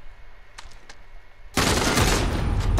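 Sustained loud automatic gunfire from Call of Duty: Modern Warfare erupts suddenly after a quieter stretch with a few faint clicks, continuing as a dense, close burst to the end.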